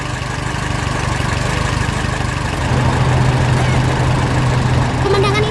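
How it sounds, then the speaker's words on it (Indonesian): An animated yellow tractor's engine roars steadily as a loud, continuous rumble with a slight rise partway through, and a short whistle-like tone enters near the end. "Suara mesinnya menggelegar membuat seluruh pertanian bergetar."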